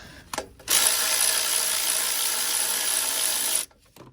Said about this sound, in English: let me actually get the last nut off